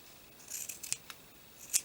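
Scissors snipping the paper cover of a handmade vintage doily journal, with a few short, crisp cuts close by in a quiet room.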